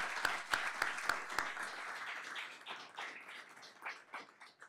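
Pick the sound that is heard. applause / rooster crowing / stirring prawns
applause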